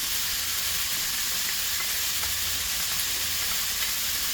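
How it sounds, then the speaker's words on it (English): Onions and peppers sizzle steadily in a hot pan, a bright, even hiss running close and loud throughout with faint scrapes, no voices. "Pan's nice and hot. We can get the onions in. And the peppers."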